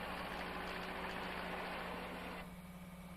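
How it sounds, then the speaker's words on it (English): An asphalt paver, a laydown machine made of a tractor and a screed, runs its engine at a steady idle with a constant low droning hum and vibration that drops slightly in level near the end. "now let's look at the paver or laydown machine."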